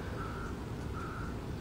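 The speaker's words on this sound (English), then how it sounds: "Birds are just waking up" Early morning outdoors with birds waking up: a crow gives two faint drawn-out caws far away against steady broadband background noise.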